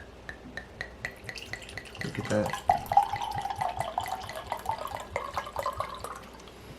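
Sugar Lips bourbon barrel-aged wine pours from the bottle into a glass, a steady gurgling stream lasting several seconds amid light clinks and ticking, with someone speaking briefly.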